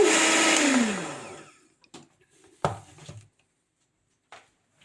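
A blender mixes ice cream with cocoa, running in a steady loud whir that spins down after about a second, followed by a few quiet knocks and clatters of the jar.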